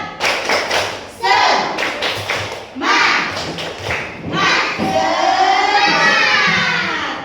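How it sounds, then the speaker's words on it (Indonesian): A classroom of children performs the rhythmic 'tepuk semangat' clapping chant, bursts of patterned claps mixed with loud chanting voices, close and energetic, in several phrases. "Tepuk semangat."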